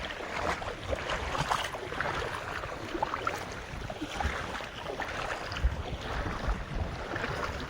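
Strong wind buffets the microphone out on a fishing boat on open water, a steady broadband roar with gusty swells across the whole span and no voices.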